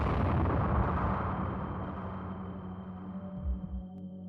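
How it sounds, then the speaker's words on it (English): A loud, deep explosion in the visual novel game Chaos;Child, set on a track outside at night, bursts at once and then rolls off in a long rumbling decay with a few low thuds, no voices. "this time I heard an explosion coming from the track outside."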